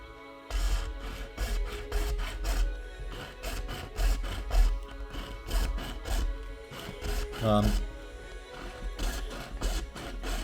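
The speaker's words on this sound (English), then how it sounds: "I found the easiest way to cut PVC tube is with my file using the sharp edge to score all the way around." Metal file scoring around a PVC tube, repeated rasping strokes in an uneven rhythm, close and fairly loud, with a brief squeak partway through.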